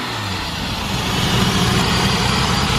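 A BMW E34 M5 engine fitted with velocity stacks runs steadily at close range, its loud, raspy intake roar and induction noise building slightly and holding without a break.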